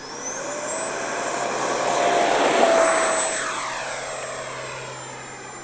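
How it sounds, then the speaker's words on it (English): FMS Rafale electric ducted fan RC jet making a flyby, its high, whooshing turbine-like whine swelling as it approaches, peaking overhead, then fading into the distance, with a steady pitched tone throughout and no talking. "Is this the first time you've flown one of these Rafales, Dill?"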